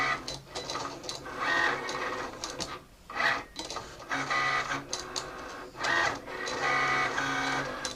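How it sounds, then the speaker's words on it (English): Cricut Explore Air cutting machines writing with a pen, producing busy mechanical whirring, buzzing and clicking from the moving carriage, in bursts broken by brief pauses. "Cricut Explore Air is definitely writing faster."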